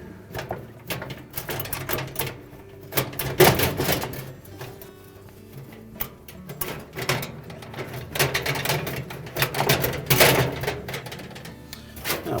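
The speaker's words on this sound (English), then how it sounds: "the blower wheel is a little tight in that hole, so it'll be a little noisy" The blower wheel assembly of a GE dryer scrapes and rattles as it is slid out of a tight housing hole, with irregular loud grinding and clunking bursts across the whole stretch, close up and without talk.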